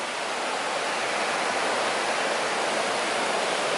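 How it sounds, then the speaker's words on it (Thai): Stream flowing below a waterfall campsite, a steady, dense rush of water that stays even and unbroken throughout without any voices. "ด้านล่างก็เป็นสายน้ำนะ"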